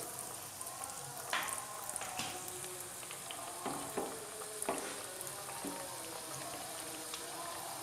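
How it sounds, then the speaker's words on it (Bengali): Chicken spring rolls frying in hot oil in a wok, a steady close sizzle and crackle with occasional louder pops and stirring clinks as two rolls at a time go into the oil. "এবার এগুলো আমি তেলে ভেজে নেব"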